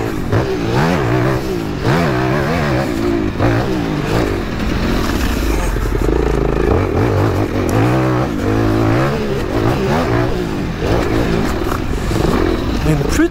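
An Aprilia 450 MXV twin-cylinder off-road motorcycle revs and pulls during riding, its loud engine note rising and falling in repeated surges, with wind and some speech mixed in.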